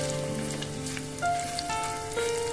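Garlic, green chili and curry leaves frying in hot oil, with a soft, even sizzle and a faint background tone, no voices.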